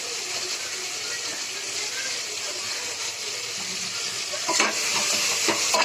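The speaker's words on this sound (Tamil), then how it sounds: "நல்லா தக்காளி வந்து பேஸ்ட் ஆகுற மாதிரி வதங்கிட்டோம்." Tomatoes for mutton biryani sautéing in a pan, a steady close sizzle with soft stirring scrapes, growing slightly louder toward the end.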